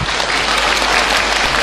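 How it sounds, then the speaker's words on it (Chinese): A theatre audience applauds at a Yue opera anniversary concert in Shanghai's Tianchan Yifu Theatre, dense sustained clapping from a large crowd, loud and even throughout. "我建议大家，我们用最最热烈的掌声，请出4位艺术家上场。"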